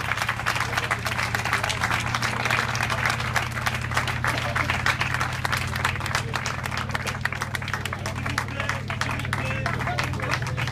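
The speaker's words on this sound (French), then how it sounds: "Allez, s'il vous plaît, des applaudissements pour ce sacré monsieur" An outdoor cycling event crowd in Castellane applauds a rider, steady dense clapping sustained throughout, loud and continuous with a low hum underneath.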